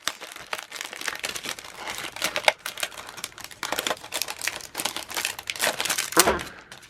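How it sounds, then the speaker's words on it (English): Plastic packaging crinkles and crackles loudly and continuously at close range while a double scallop card die set is unboxed, with busy bursts of rustling throughout. "Sorry for the crinkling."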